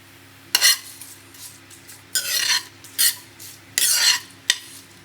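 Dried chilies and onion sauteing in oil in a pan, heard as a handful of sharp scraping stir strokes and clinks against the pan over a faint background sizzle, with short quiet gaps between them.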